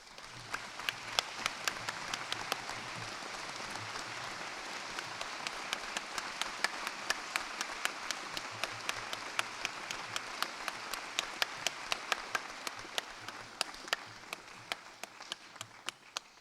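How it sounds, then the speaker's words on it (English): Audience applause at a university graduation ceremony, steady sustained clapping from a large crowd for a newly conferred doctoral graduate, continuing for about sixteen seconds with sharp individual claps standing out and fading slightly at the end. "Big round of applause for Dr. Daniel O'Sullivan"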